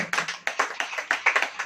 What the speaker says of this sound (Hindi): ताली बजाइए।